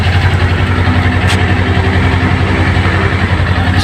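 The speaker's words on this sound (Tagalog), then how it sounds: "Ayan ditong Kawasaki, 400 Ninja." A Kawasaki Ninja 400 motorcycle idles nearby at a riders' roadside stop, a loud, steady low engine rumble that runs evenly throughout without any revving or talk.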